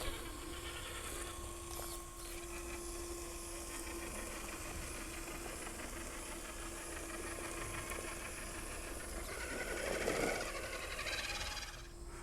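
Traxxas TRX4 RC crawler truck's electric motor whirs steadily while the truck climbs, a faint, continuous buzzing hum that rises slightly near the end, with no talk.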